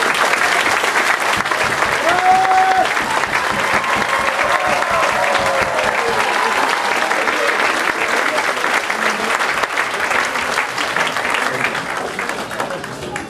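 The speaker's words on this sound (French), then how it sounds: "Applaudissements également s'il vous plaît pour notre présentateur Mathieu." A concert audience at a band performance in Bollezeele applauds loudly and continuously for the presenter, a dense wash of many hands clapping that slowly eases toward the end; a brief voice cuts through early on.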